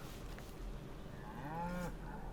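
An ox in the video game Baldur's Gate 3 lets out a single low, drawn-out moo partway through, clear over a quiet, faintly humming game background.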